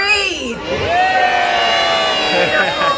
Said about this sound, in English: I need everyone to yell out whiskers and make sure you're watching Murphy's nose